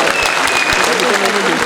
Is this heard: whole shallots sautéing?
no